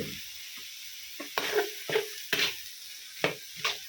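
Climbing perch stir-frying for a Thai curry served over rice, giving sharp intermittent bursts of sizzle and spatula scrapes against the pan, close and fairly loud over a quiet background, with no voices.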